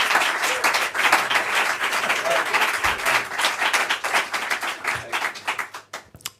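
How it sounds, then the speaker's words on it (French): Concert audience applauding a violinist, dense steady clapping from a full room that holds for several seconds, then thins and fades out near the end. "Merci de l'applaudir."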